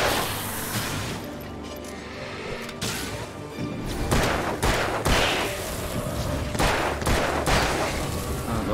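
Gunfire in the Alan Wake video game: loud, dense volleys of shots and crashing impacts that come in rapid bursts and grow heavier toward the end, with no talking.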